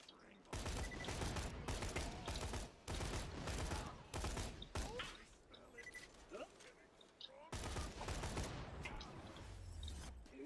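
Rapid bursts of rifle gunfire from the shooter game Borderlands: The Pre-Sequel, loud and dense, with clusters of shots broken by short pauses and a few mechanical clicks and game effects between volleys.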